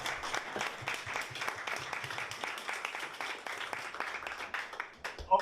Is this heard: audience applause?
yes